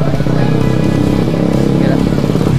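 A motorcycle engine rumbles steadily nearby, loud and continuous, with people talking over it.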